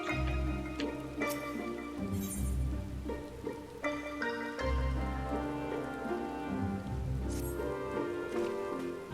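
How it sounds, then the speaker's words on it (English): Steady rainfall in a video game downpour, a soft continuous patter layered under a rich musical score that runs throughout. "While this downpour is precisely the result we were hoping for"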